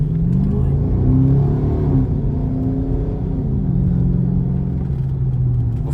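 A Dodge Charger R/T cruises on a road at night, its engine droning low with gradual pitch shifts under light throttle, close and steady from inside the cabin, with some talking over it.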